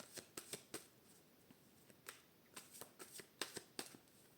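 A deck of tarot cards is cut and shuffled by hand close up, giving soft rapid riffles and flicks in irregular bursts. The sound is quiet and there is no speech.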